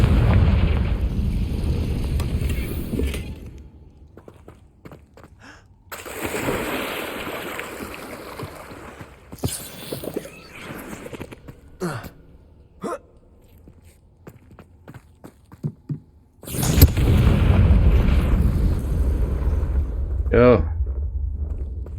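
Spell blasts in Hogwarts Legacy explode with loud booming bursts, first at the start and again mid-way, separated by quieter footsteps and movement sounds.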